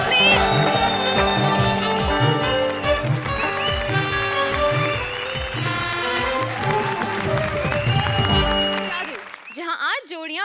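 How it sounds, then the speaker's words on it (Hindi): A studio audience on a comedy show applauds loudly for Bharti and Sudesh, the clapping blending with lively band music and drums throughout before cutting off near the end. "जोरदार तालियां भारती और सुकेश के लिए, प्लीज"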